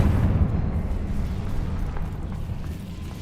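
A Confringo fire spell blasting in Hogwarts Legacy, a deep rumbling explosion that starts loud and close, then settles into a sustained roar that slowly fades over a few seconds.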